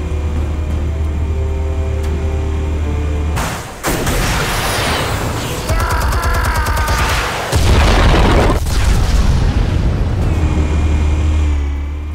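Heavy, booming explosive detonations in the Batman: The Telltale Series game roll over a constant low hum, with several loud blasts and crackling debris following one another.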